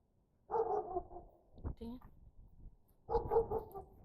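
A dog barks in two short bursts, close by at Paoay Lake, Ilocos Norte, with a brief voice-like sound between them.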